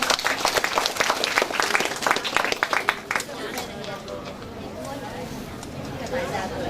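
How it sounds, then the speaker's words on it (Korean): Crowd applause at a multicultural family festival in Muan County, South Korea, with brisk clapping for about three seconds, then fading into softer scattered claps and murmuring voices. "박수 한번 크게 쳐주시기 바랍니다"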